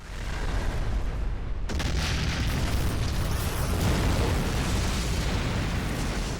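An overdone explosion effect from the Neptunia anime bursts in sharply and stays loud and harsh, with a clipped, distorted roar that rumbles on for several seconds.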